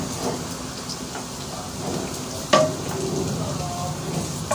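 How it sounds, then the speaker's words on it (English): Carrot fries in a pan with a steady sizzling crackle throughout, broken by one sharper clack partway through. "Let the carrot fry well and then we will put the other ingredients."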